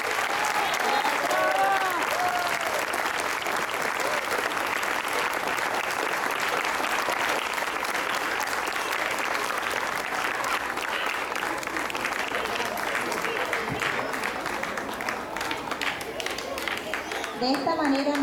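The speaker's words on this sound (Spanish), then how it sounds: "Un fuerte aplauso a todos nuestros artistas." Sustained, loud applause from an audience at a Catholic school's Hispanic Heritage Day celebration, honoring student performers; steady dense clapping for about eighteen seconds with faint voices mixed in.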